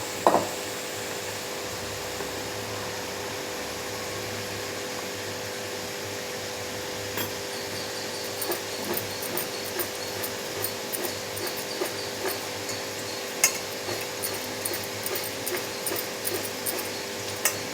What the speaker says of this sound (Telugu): ఇప్పుడు మనం వేసిన పప్పుల పొడి అంతా దీంట్లోకి మిక్స్ అయ్యేటట్టుగా బాగా ఇట్లా అనాలన్నమాట.